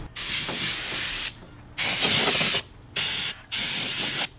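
An air-hose paint sprayer coats a kart outdoors under a tree in bursts of loud, close hissing spray, four separate blasts with short silent gaps between them.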